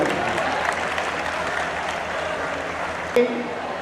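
A crowd applauding steadily, dense clapping throughout, with a brief louder burst near the end.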